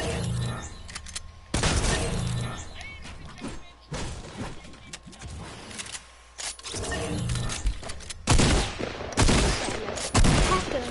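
Gunfire from a weapon in Fortnite, a dense fusillade of rapid shots in several bursts with loud clusters near the start, middle and end, plus crash-like impacts and a little talk.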